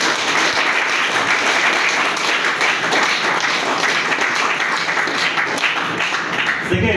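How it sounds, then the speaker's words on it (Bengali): An audience at a training programme claps steadily in thanks to Mr Dipankar Roy, a thick, sustained round of applause filling the whole stretch, with a few faint voices underneath. "ওনাকে ধন্যবাদ দেওয়ার একটা ক্ল্যাপিং টিম বড় করে"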